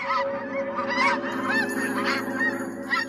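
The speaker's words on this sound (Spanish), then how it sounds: "las aves migran" A flock of migrating geese honks continuously, many overlapping calls close and loud, alone without talk.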